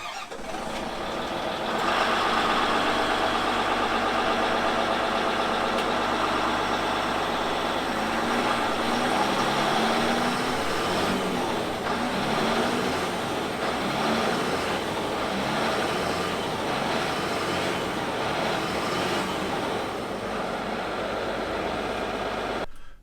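A wheel loader's diesel engine starts and revs, heard from outside: a loud, continuous rumble that climbs in pitch through a couple of rising revs before settling back toward idle.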